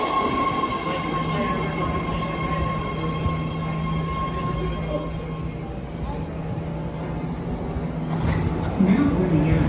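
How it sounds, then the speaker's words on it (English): A six-car BART Red Line train bound for Richmond arrives at Embarcadero station in San Francisco, a loud steady rumble with a sustained whine and tonal hum, building slightly at the end as it pulls in. "here comes the 6-car red line Richmond train at Embarcadero station"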